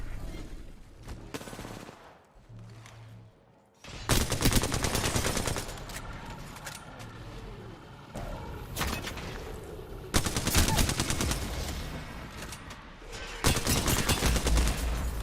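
Video game gunfire in sustained bursts of automatic fire, close and loud, with short pauses between volleys and a quieter stretch near the start.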